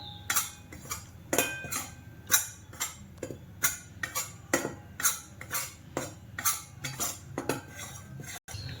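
Ragi flour is dry-roasted in a pan over a low flame, a spoon scraping and clinking against the metal in a steady rhythm about twice a second, close and clear, without voices.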